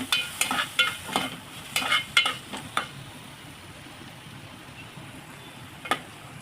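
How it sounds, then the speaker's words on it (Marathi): Cashew nuts frying in hot oil are stirred in a pan, giving a quick run of close scraping clicks over a faint sizzle, then the sizzle continues almost alone with one more stir. "आता त्यामध्ये घालायची काजूची बी तर हे सर्वांचं व्यवस्थित तेलामध्ये घालून घ्यायचं"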